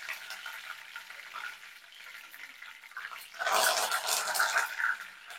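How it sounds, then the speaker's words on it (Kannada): Curry leaves dropped into hot oil for a besan pitla, a moderate hiss that suddenly swells into a louder, brighter crackling sizzle partway through and keeps spitting to the end, with no voices. "ಇವಾಗ ನಾನು ಕರಿಬೇವು ಹಾಕ್ತೀನಿ ಸ್ವಲ್ಪ"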